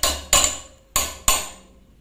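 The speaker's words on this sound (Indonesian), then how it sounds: "Kalau misalnya keras, pukul dengan palu." Four sharp hammer blows on metal while repairing an LG washing machine, in an uneven rhythm, each a loud clang with a brief ringing tail, close up with no talking.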